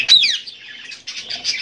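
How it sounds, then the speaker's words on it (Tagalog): A pet Indian ringneck parrot in a cage gives a sharp, loud, close chirp, followed by a softer stretch of raspy chattering calls, with no talking. "Sa aking alagang parot, Indian ringneck."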